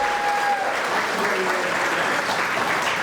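An audience at a city State of the City address applauds as city directors are introduced, dense sustained clapping filling the hall from start to finish with no pause.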